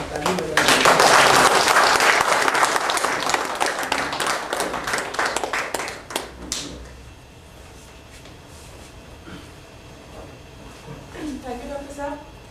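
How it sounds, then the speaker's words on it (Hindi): An audience applauds in a dense burst to welcome a speaker at a talk on brain stimulation, loud and sustained for about six seconds before fading, followed by quieter room noise and a few faint voices. "तो हम उनका वेलकम करते हैं, एक बार ताली बजाते हैं।"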